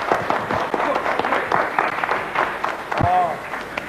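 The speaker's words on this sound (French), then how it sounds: "Et nous applaudissons, malgré tout, Monsieur Fabrice." Studio audience applause on a 1987 French television game show, a dense patter of clapping heard underneath a host who keeps talking over it.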